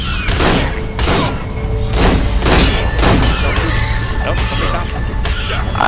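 Rapid, heavy gunfire booms in repeated bursts in the Ark survival game, loud and close with a dense, continuous rumble between shots, and no clear talking over it.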